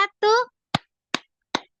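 During a relaxing group clapping game, a short spoken call is followed by three crisp, evenly spaced claps in a steady rhythm, close and clear against silence.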